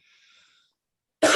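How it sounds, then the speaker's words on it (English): A single loud, harsh cough bursts out near the mic after a faint breathy hiss and a pause, from an adult man sick with COVID. "Excuse me for my coughing."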